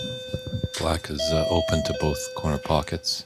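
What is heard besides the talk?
doorbell sound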